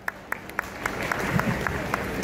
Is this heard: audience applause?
yes